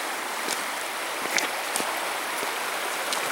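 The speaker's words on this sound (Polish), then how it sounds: "tutaj właśnie rzeczka w okolicy, przy której się rozbiliśmy." A small glacier-fed mountain stream beside a campsite near Garmisch-Partenkirchen below the Alps gives a steady, close rushing wash of water with faint splashy ticks, running alone with no voices.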